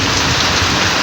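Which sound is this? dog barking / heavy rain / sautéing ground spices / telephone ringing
heavy rain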